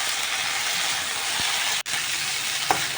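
Kochur loti (taro stolons) frying in a pan with jackfruit seeds: a steady, close, dense sizzle, with one brief dropout and a light clink.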